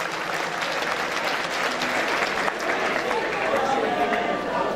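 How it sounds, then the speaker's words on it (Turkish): Concert crowd applauding at a Turkish folk music concert, a continuous dense clatter of many hands with some crowd noise mixed in, steady and fairly loud throughout. "Güzel bir alkış alalım."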